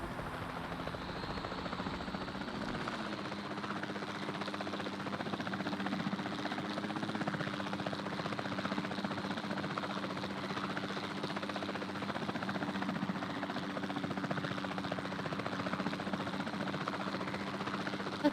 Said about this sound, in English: Not super fond of flying these helicopters.